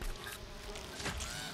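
Bee buzzing in a video game, a steady close insect drone that holds for a short moment without talk.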